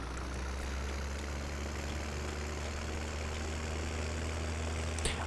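Tractor engine in the video game Farming Simulator 17, a steady low idling drone with a mid-range hum, continuous and fairly close, with no talking over it.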